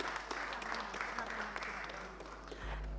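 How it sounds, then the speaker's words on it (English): An audience at a gems and jewellery business forum applauds the guests and dignitaries, a steady even patter of clapping at moderate distance, with a low hum running underneath. "a big round of applause for all the guests"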